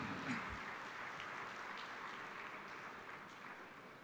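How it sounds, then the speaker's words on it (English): A Rotary District 3190 conference audience applauds in a dense, even wash of clapping that holds steady throughout at a moderate distance. "Please give him a big round of applause."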